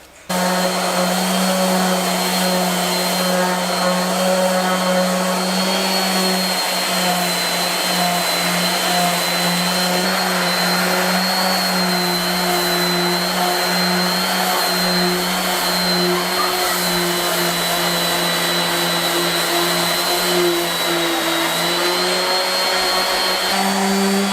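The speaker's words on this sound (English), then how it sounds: "I'm going to take the sander to it and see if we can get it cleaned up a little bit" A power sander runs continuously on a concrete wood stove hearth, giving a loud, steady whine with a droning hum that holds from start to finish.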